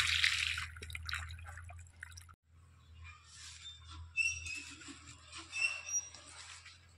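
Water welling up from underground in a betel nut garden, with soft irregular drips and trickles over a low steady hum; the sound is louder at the start, briefly drops away, then continues more faintly.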